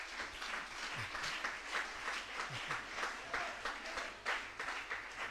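A church congregation applauds the Lord with sustained, dense clapping from many hands, steady and fairly loud throughout.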